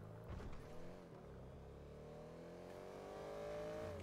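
A Benefactor Schwartzer (Mercedes C63 AMG Coupe) sports car engine in GTA 5 Online revs up and holds a raspy, rising drone, loud and steady, with no voices over it.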